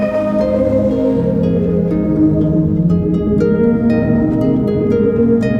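Sustained synth tones pass through the Erica Synths Echolocator, a desktop delay and reverb unit, blurring into a dense, swirling ambient wash with faint repeating echoes, loud and steady throughout, with no voices.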